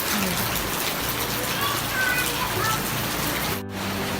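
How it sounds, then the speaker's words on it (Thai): Heavy rain pours down steadily with a dense, continuous hiss of drops hitting surfaces, close and loud throughout, with a brief dip near the end. "ฝนตกหนักมาก"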